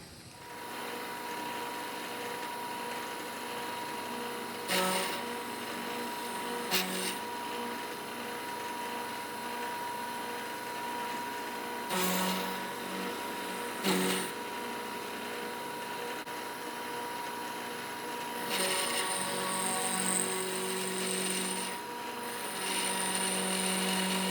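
Milling machine cutting racetrack-shaped slots with a worn four-flute high-speed steel end mill, a steady whirring drone with brief louder bursts as the cutter engages, continuous throughout with no talk.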